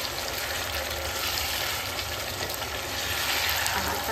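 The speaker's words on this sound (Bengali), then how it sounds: "আমি যে টমেটো সস চিলি সসের একটা গরম থাকে ওটাকে আমি নেড়ে নেড়ে কষে কষে" Tomato and chili sauce for spicy chili chicken sizzles steadily in a hot pan while being stirred, a dense continuous frying hiss with soft scraping, close and fairly loud with no talking.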